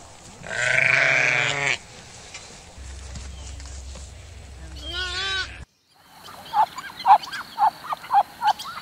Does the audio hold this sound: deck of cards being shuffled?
no